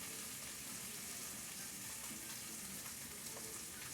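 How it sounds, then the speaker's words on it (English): Meat sears with rosemary in a very hot pan, a steady, dense sizzle and crackle that holds evenly close by throughout, with no talking. "basically we just need to sear it really high"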